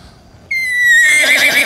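A person's voice imitates a horse's whinny, a sudden high, wavering neigh that starts after a brief quiet moment and trails off rough and breathy.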